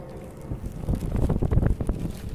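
Steady wind buffets the microphone in low, rumbling gusts that swell and fade during an evening walk, with no voices.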